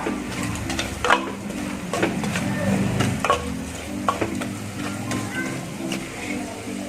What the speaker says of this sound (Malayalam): ഇനി നന്നായിട്ടൊന്ന് ഇളക്കി കൊടുക്കുക